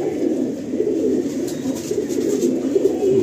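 Pigeons cooing steadily in a low, continuous murmur, a pair of male and female birds held in hand among a fancier's flock, with faint bird calls above and no talk.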